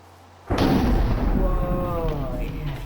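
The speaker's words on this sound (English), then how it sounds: "Lightning will probably strike any second." Minecraft lightning strike: a sudden, loud thunder crack that rolls into a long, heavy rumble, with a voice exclaiming over the fading roar.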